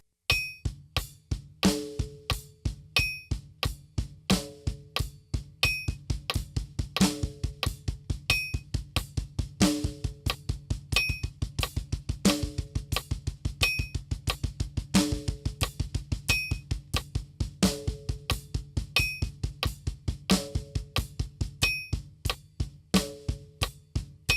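Fast, continuous double bass drum strokes in eighth notes and triplets run under a steady metronome click and periodic hi-hat hits, the pattern speeding up in stages.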